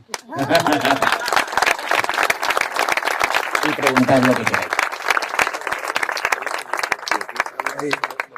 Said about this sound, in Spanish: Ahora sí podéis aplaudir.